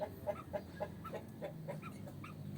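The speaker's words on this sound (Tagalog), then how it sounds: "Free range chicken." Free-range chickens cluck in a steady series of short, evenly spaced calls, moderately close, with a low background hum and no talking.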